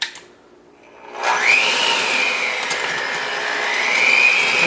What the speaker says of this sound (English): We'll grab our mixer.